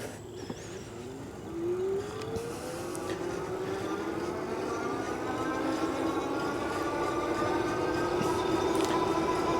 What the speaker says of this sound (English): Now I'm just gonna use a twist throttle and see how fast we can go.